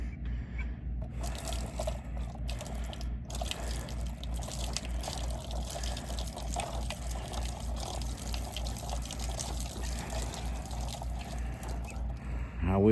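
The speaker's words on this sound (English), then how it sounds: "I'm gonna pour the rest of this on top of that inside water there that has all the ice in it." Water poured into an outdoor animal water container holding ice during cold weather, a steady splashing and trickling stream that runs continuously and close at hand with no talk.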